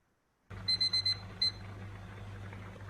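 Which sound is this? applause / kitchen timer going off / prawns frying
kitchen timer going off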